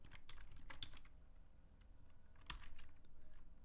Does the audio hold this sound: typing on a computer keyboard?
yes